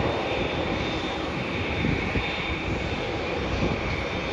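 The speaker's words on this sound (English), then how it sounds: "The Jetstar flight is making its way to the gates now." Jetstar airliner taxiing to the gate, a steady loud jet engine roar and whine heard from outside at a distance, unbroken throughout with no talking.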